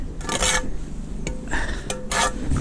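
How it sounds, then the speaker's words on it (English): A bricklaying trowel scrapes mortar bits off the back of a brick in a few rough, gritty rasping strokes, with a short knock between them, close and clear. "Scrape the bits off the back."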